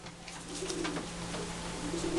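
Pigeons coo in low, soft repeated phrases near a moat, a steady background hum running underneath throughout.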